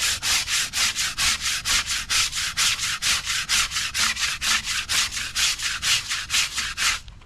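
Rapid, rhythmic back-and-forth scrubbing of a car wheel with a stiff abrasive bristle brush, about four strokes per second, close and loud throughout.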